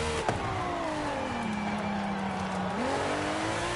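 A McLaren car engine in a racing video game holds a steady, loud tone that sinks slightly in pitch, then climbs again near the end, with brief tire noise at the start and no talking.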